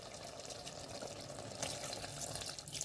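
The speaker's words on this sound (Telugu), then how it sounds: "ఇప్పుడే మనం కొంచెం వాటర్ పోయాలి." Water is poured into a clay pot of vegetable curry cooking with little oil, making a faint, steady splashing and trickling with no voices.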